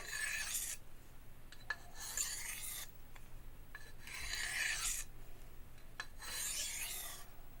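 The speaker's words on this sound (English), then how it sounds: "I have no issues sharpening this blade on this stone" A knife blade rasps across a sharpening stone in long, repeated strokes, each a bright scraping swipe with short pauses between, close and clear with no talking.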